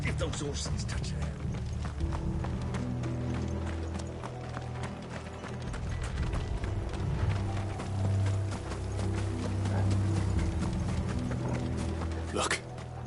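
Rapid, rhythmic hoofbeats of galloping horses in the video game Final Fantasy XVI drum steadily over a low rumbling score, with occasional voices and clanking mixed in.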